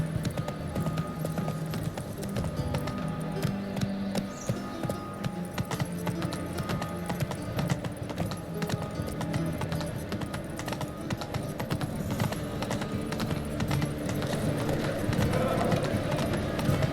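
Roach the horse clip-clops steadily along a path in The Witcher 3, its hooves beating a continuous rhythm under layered game ambience and background noise, with a brief whinny-like sound at one point.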